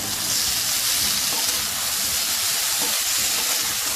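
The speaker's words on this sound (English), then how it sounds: "Once the masalas are coated over the potatoes, fry it for a minute." Potatoes fry in a pan with salt and turmeric powder for Bengali aloo posto, giving off a steady, loud, even sizzle and hiss that holds without a break.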